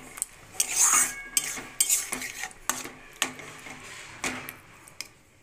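A metal spoon scrapes and clanks against a pan as tomatoes are stirred and sautéed with shankar fish, sharp irregular knocks over a faint sizzle.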